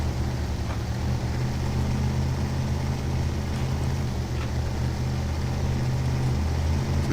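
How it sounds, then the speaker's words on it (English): The Limes SXS side-by-side buggy in the video game SnowRunner drones with a steady, low engine rumble at a constant pitch, loud and unbroken throughout. "I do like the sound of the engine too"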